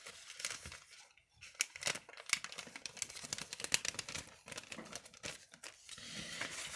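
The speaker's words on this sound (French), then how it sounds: "Alors, hop, on va les remettre dans la petite pochette." Small items from an Advent calendar are slipped back into a little pouch, producing close, irregular crinkling and rustling bursts with brief pauses, quiet overall and without talk.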